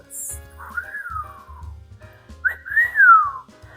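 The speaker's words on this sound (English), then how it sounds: "I'm gonna whistle at you." A person whistles two rising-then-falling sliding notes, fairly close and clear, with a low hum underneath and a quiet pause between the phrases.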